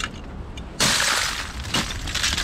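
Ice underfoot breaks with a sudden bright, glassy crunch, followed by more crackling and a second crunch as steps press through the frozen surface outdoors.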